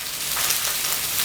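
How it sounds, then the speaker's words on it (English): Bell peppers sizzle in olive oil in a pan during a vegetable sauté, a steady, close hiss of frying that holds evenly throughout with no voices. "you can hear those peppers sizzling"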